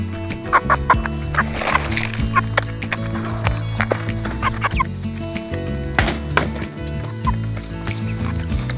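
A backyard flock of fourteen hens and one rooster on a small homestead clucks and calls in the morning, several birds close by with overlapping short cackles and a few louder squawks over a low continuous background hum.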